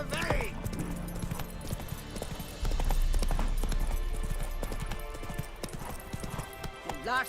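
Horse hooves clip-clopping at a steady gallop in The Witcher 3, with a whinny near the start and a voice giving a short command over the rhythmic beats and game ambience.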